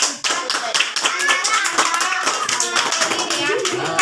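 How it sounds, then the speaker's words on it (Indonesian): Students in an Indonesian classroom clap together during a micro-teaching session, loud, dense rhythmic clapping from a group close by, continuous throughout with voices mixed in. "Kita tuh beri tepuk tangan lah buat"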